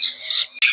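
A pet bird at a bird market gives a loud, close, shrill call that holds for a moment, breaks off and then starts again.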